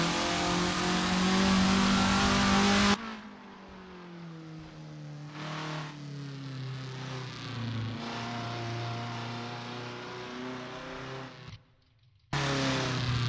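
A Formula Ford race car in a sim racing game at Brands Hatch accelerates hard, its mid-pitched engine revving up through the gears with rising and falling whines. The sound is loud and close, with abrupt cuts between shots.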